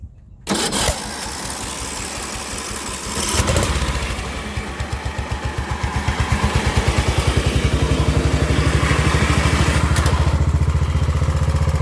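A mud mower engine cranks briefly, catches and fires up, then settles into a loud, steady, rhythmic chugging idle that runs close by to the end.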